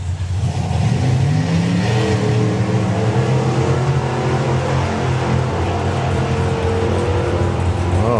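A hot rod drag race car at the NSRA Hot Rod Drags accelerates down the strip, its engine revving hard and loud with climbing pitch through the gears, heard close and continuous.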